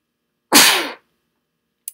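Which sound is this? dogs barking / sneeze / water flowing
sneeze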